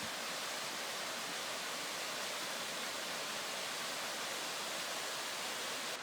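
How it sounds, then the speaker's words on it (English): A steady, broad rush of falling water from Tom Gill Waterfall in England's Lake District, constant and unbroken, heard at low volume from some distance. "the waterfall behind me used to be called Tom Gill Waterfall, but Marshall changed it to Glen Mary"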